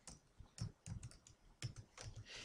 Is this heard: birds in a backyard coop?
no